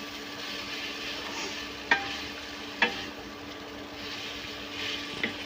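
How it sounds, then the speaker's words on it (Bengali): Boiled noodles tossed into a pan of frying egg and onion: a steady low sizzle with a few sharp utensil clacks against the pan, close and without voices. "পেঁয়াজের সাথে ডিম ভাজা ভাজা হয়ে গেলে সেদ্ধ করে রাখা নুডলসগুলো দিয়ে দেব।"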